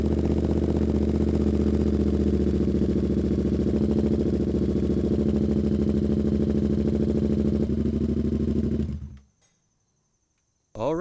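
A 2023 Yamaha R7 motorcycle engine idles steadily and close by with a low, even throb for about nine seconds, then cuts off abruptly into silence.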